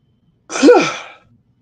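A single sharp sneeze, close and loud, bursting out and trailing off quickly in otherwise quiet surroundings.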